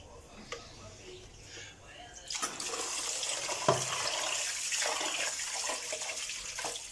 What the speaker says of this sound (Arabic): انا من الصبح عماله اغسل في الرز